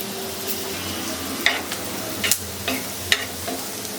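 Two bay leaves and a dried red chilli tempering in hot oil in a cleared spot among fried potatoes, for a vegetarian bottle gourd curry. A steady low sizzle carries a few sharp crackles and scrapes, close and alone.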